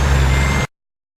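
A truck engine in the American Truck Simulator driving game gives a steady, loud low rumble for just over half a second, then cuts off abruptly into silence.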